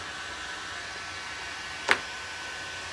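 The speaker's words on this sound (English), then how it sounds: "Yeah, I'll use my blow dryer." A hair blow dryer on a heat setting, used to heat-set torch paste stain on a wooden charcuterie board, blowing as a steady airy whir throughout with one brief sharp click or knock near the middle.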